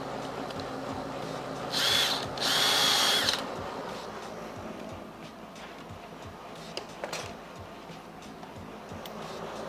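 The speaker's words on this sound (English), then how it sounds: "This is a countersink bit." A power drill with a countersink bit bores into a door frame being replaced, with a couple of short high-pitched bursts near the start, then quieter handling and tapping.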